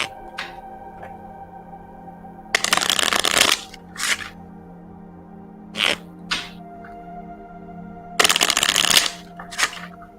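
A deck of playing cards is shuffled in two loud, close riffling bursts, each lasting about a second, separated by sharper single card snaps and taps over a faint steady background hum.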